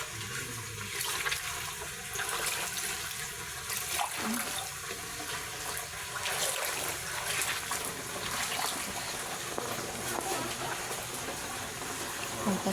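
Floodwater running and trickling steadily inside a house flooded during a typhoon, a continuous close watery wash with faint voices murmuring under it.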